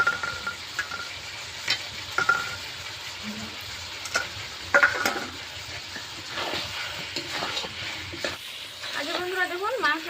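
Mutton curry with potatoes and cauliflower frying and being stirred in a pan, with a steady sizzle and repeated scraping of the spoon, plus a few faint background sounds.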